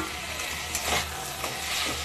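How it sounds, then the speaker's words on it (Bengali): Boiled then fried potatoes stirred into a hot, well-cooked spice masala for Bengali-style dum aloo, giving a steady, close sizzle and fry with a few soft scraping stirs and no voices. "এবার আমি এর মধ্যে দিয়ে দেব সিদ্ধ করে ভেজে রাখা আলুটা।"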